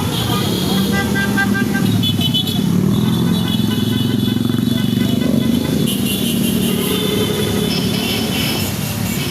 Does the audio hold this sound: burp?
no